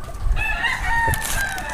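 A gamefowl stag rooster crows once, loud and close, a single drawn-out call with a rough start and a sustained, wavering tail.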